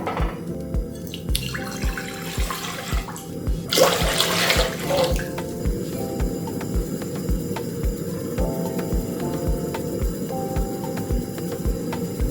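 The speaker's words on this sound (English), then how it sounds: "Our water is boiling." Water coming to a rolling boil in a pot for a South African maize meal bake, a steady rushing bubble with rhythmic low thumps throughout and a brief louder surge in the middle, no talking.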